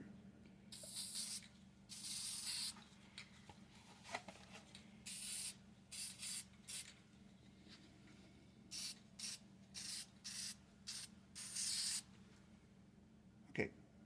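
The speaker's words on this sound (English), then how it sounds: "now I'll get the last of my camouflage brown paint. I'm going to spray it" Repeated short bursts of hissing aerosol spray of brown paint onto a model diorama, irregular and close, separated by brief pauses over a low steady background hum.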